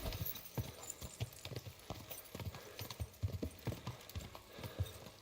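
Steady clip-clop of horse hooves in the video game Kingdom Come: Deliverance II at a trotting rhythm, close and fairly quiet, with a faint whinny-like sound in the background.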